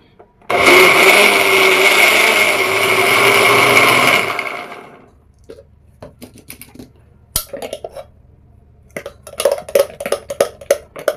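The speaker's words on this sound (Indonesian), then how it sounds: "kita blender aja dulu." A blender roars loudly and steadily for about four seconds grinding a meatball mixture, then cuts off, followed by quieter clinks and rattles of a container and utensils.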